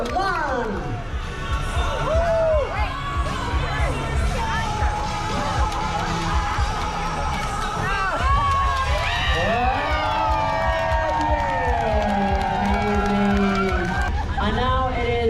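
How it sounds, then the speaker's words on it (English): Cruise ship audience on the port side cheering for their team: a loud, sustained crowd roar with overlapping shouting voices that runs unbroken from start to end. "Everybody on port side, please cheer up for your team."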